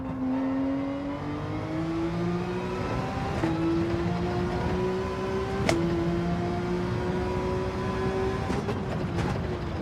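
A Porsche racing car engine in Gran Turismo 7, a steady droning tone rising through several gear pulls with brief shift dips, heard close and continuous.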